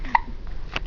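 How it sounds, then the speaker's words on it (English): A single short hiccup bursts out near the start, with a faint second catch of breath toward the end over quiet room noise. "Oh, you have the hiccups?"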